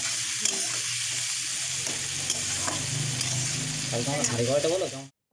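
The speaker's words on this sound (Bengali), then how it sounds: "একটু লবণ দিয়ে পেঁয়াজটাকে নাড়তে থাকি" Onions sizzle in a hot pan with salt while being stirred, a steady close frying hiss with scraping stir sounds that swell briefly near the end before cutting off.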